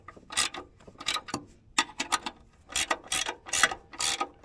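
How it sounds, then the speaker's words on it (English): A ratchet tightens nuts on a custom backhoe, giving quick bursts of close, crisp clicking strokes in an uneven rhythm with short pauses between pulls. "there's one nut started. We'll get these snugged down and get it pulled into place."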